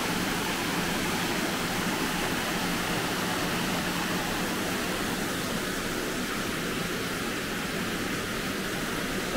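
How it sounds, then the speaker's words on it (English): A large indoor water feature in the reception area of The Bay Hotel in Kinghorn gives a constant, even rush of falling water that fills the space steadily and alone, with no pauses. "To give the noise, there's a big massive water feature."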